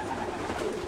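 Racing pigeons coo softly inside an Irish loft, a brief low murmuring under a dense, steady background hum, with no speech.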